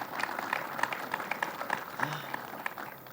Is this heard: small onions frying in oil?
no